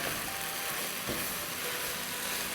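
Minced keema for samosa filling frying in a pan while being broken up, a dense continuous sizzle close by with a faint scraping knock near the middle, no voices.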